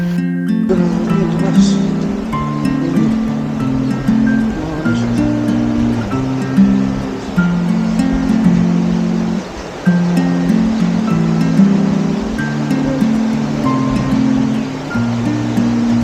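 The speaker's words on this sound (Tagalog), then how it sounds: "Makikita mong napakalakas pa rin ang agos ng tubig dito" Strong floodwater current rushing past the Katandala Bridge after a typhoon, a steady loud roaring wash that stays dense and continuous throughout with slight swells, no pauses and no voices rising above it.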